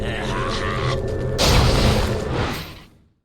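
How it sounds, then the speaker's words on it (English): A tower collapses in the Dota 2 video game during a pro match, a loud crumbling boom that swells midway through a dense bed of game effects and commentary voice, then fades out. "Bottom tier 2 tower is gone."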